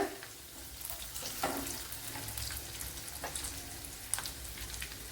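Sliced onion sautéing in a pan for tomato pasta, a soft steady sizzle with occasional stirring scrapes, fairly quiet and close, no talking.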